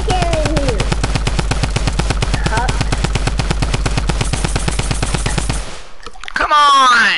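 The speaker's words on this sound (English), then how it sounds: "Why is there a hand cannon in here?" A hand cannon fires in rapid, continuous bursts in a video game, loud and close for several seconds. A voice shouts briefly at the end.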